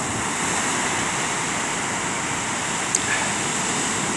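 Sea surf off St Lucia during a snoek fishing derby, with waves breaking in a steady broadband wash, wind noise on the microphone and a brief faint click near the end.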